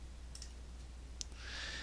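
A single soft computer mouse click sounds faintly during AutoCAD drafting work, quiet and brief against a low room hum.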